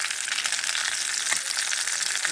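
Food frying crisply in a little oil after a seasoning of salt and pepper, part of a home-cooked Filipino dish; a steady, close, bright sizzle with no talking.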